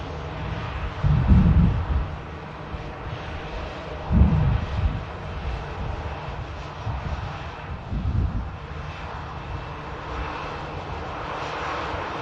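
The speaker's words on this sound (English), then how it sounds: "Coming in from Gibraltar, the EasyJet Airbus A320." EasyJet Airbus A320 jet arriving from Gibraltar at Manchester Airport, a steady broad roar of engine noise with low rumbling surges swelling and fading every few seconds, moderately loud and continuous throughout with no talk.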